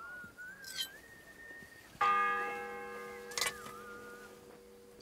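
Church bell struck once in the medieval world of Kingdom Come: Deliverance 2, a loud clear clang with long ringing overtones decaying over several seconds, preceded by faint birdsong and a soft whistle-like tone.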